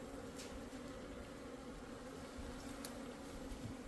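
A dense, steady buzz of many Eastern and Western honeybees humming together at close range at a hive, unbroken and fairly quiet, with no voices.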